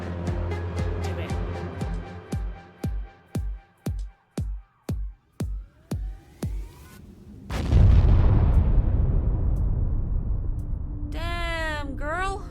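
A bomb goes off in the horror game The Gallery: a steady series of sharp thuds leads into one loud, deep blast with a long rumbling decay, followed by faint sweeping electronic tones.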